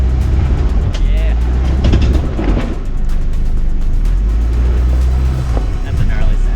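A Subaru SUV engine labors while off-roading through desert terrain, a loud continuous low rumble with crunching and rattling, voices talking over it throughout.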